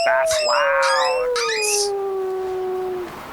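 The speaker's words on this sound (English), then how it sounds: "Yes, wolves are loud." Wolves howling nearby in the wild, several overlapping long wavering howls that slide downward and trail off over a few seconds, loud and clear.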